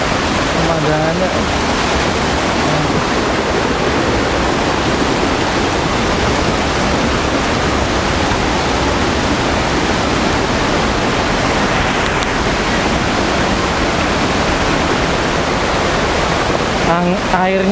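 Curug Muncar waterfall at Bruno, Purworejo, roars as a loud, steady wash of falling water close by, with a brief voice near the start and end.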